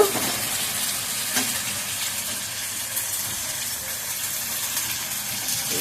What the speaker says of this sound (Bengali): এই মাংসের টুকরোগুলো আস্তে আস্তে সব দিয়ে দিচ্ছি। দিয়ে আমি ভালো করে একটু কষিয়ে নেব।